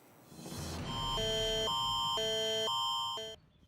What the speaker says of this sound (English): That's the sound of an Amber Alert.